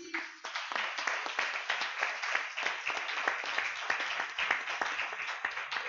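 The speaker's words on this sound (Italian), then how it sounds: "Vi chiedo un applauso per Andrea Renzi." A theatre audience in Naples claps steadily, a dense patter of many hands filling the whole stretch at moderate volume, with no voices.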